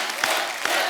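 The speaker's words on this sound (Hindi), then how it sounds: "जोरदार तालियां शानुदा के लिए।" Audience applause at a stage show with Udit Narayan and Kumar Sanu, a short dense burst of clapping with crowd noise, steady and fairly loud throughout.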